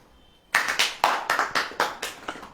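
Hands clap in a short series of about eight sharp, separate claps at a steady but slightly uneven rhythm, close and distinct, during a church gathering where people are asked to clap.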